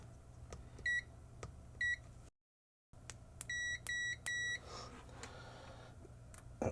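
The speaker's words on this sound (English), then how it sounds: "Put the meter into continuity mode." A multimeter in continuity mode gives short, sharp beeps: two single ones, then a quick run of four, against a quiet room background.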